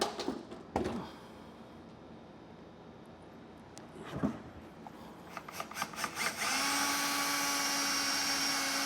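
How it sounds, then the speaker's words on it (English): A power drill whirs steadily and loudly near the end, drilling a pilot hole for a gooseneck hitch under a 2025 Chevrolet truck bed, after a few short bursts and handling knocks. "And then I'm going to drill a pilot hole."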